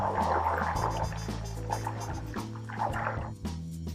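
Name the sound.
butter bubbling and sizzling while cooking down into ghee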